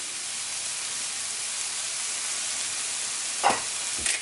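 Peppers sizzle steadily in a hot pan as eggplant lasagna filling cooks, a continuous frying hiss broken near the end by two brief scraping stirs.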